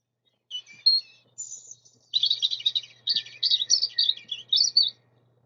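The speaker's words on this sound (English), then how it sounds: "Now the robin is another very common bird." A European robin sings alone in the countryside, clear and close, in short high warbling, rolling phrases that speed up after a hesitant start, with small pauses between bursts.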